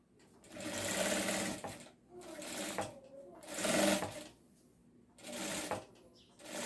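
Sewing machine stitching a shoulder bag, running in four separate bursts of steady mechanical whirring with short pauses between them, close and clear.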